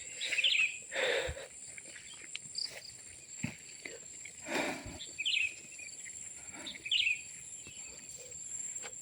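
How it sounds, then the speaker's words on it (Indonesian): Birds chirping at dusk along a footpath, scattered short bright calls over a faint steady insect hum, with occasional footsteps and soft rustling nearby. "Masih ada suara kicau burung sih."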